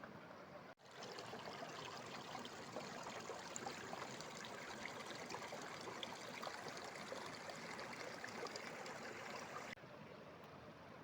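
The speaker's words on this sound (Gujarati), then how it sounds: "બરફ અને પથ્થરની નીચેથી પાણી વહી રહ્યું છે" Meltwater runs beneath snow and rocks high in the Himalaya, a steady, continuous rushing and gurgling stream that stays even and unbroken throughout.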